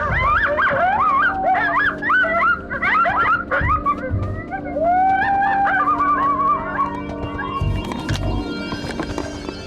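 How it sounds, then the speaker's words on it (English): A coyote in open Montana country gives a series of yipping, howling warning barks, high and wavering, loud and fairly close, with a few low thumps in between and no one speaking. "Got a coyote barking at us right over here"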